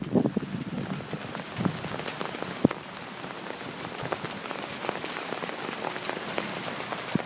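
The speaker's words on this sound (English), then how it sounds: "And yep, there is some hail with this. We're getting hail." Heavy rain pours outdoors as a storm's rain shaft arrives, with small hail mixed in, a dense steady hiss of drops striking surfaces and a few sharper ticks standing out, loud and continuous throughout.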